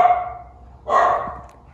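A dog gives two short, close barks during an outdoor play date with another dog, each bark crisp and fairly loud against a quiet background.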